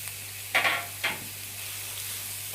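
Grated carrots, about 300 grams, frying in oil over a high flame, a steady close sizzle with a few sharp stirring scrapes and bursts standing out, no voices.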